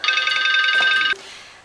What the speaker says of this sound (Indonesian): Bentar ya, ada telepon.